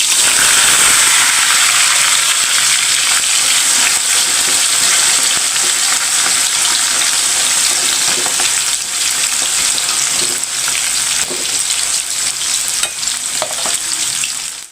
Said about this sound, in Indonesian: Sekarang goreng jengkol.